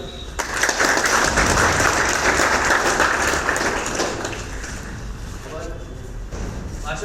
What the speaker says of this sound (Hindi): एक बार इनके लिए तालियां